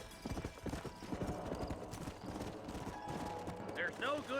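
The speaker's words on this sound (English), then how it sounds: "Come on, get on your horse." Horse hooves clip-clop steadily in Red Dead Redemption on Nintendo Switch, a brisk repeated rhythm up close, with a short whinny near the end and game ambience underneath.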